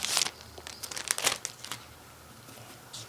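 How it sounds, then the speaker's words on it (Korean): Thin plastic wrapping around a blunt tapestry needle and cotton thread crinkles and tears as it is opened by hand, a burst of close crackling in the first second and a half, then quieter rustles. "비닐을 풀어서 꺼내 주세요."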